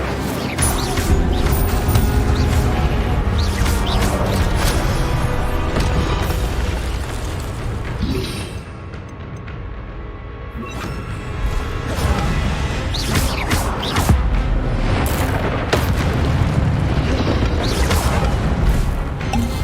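An Incendio fire spell blast in the Hogwarts Legacy video game erupts amid a dense, loud wash of whooshing, crackling bursts and crashing combat effects. The din dips briefly midway, then swells again.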